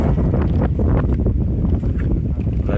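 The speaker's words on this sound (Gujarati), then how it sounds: "પવન બહુ છે" Strong gusting wind across an open farm field during groundnut sowing, roaring and buffeting the microphone in a loud, continuous rumble with no talk.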